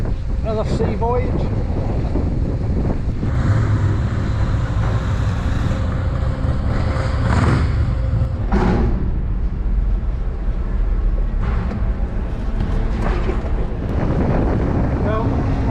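Heavy wind buffets the microphone aboard a car ferry at sea on a rough crossing to the mainland, with a steady low roar of engine and water beneath and gusts swelling throughout.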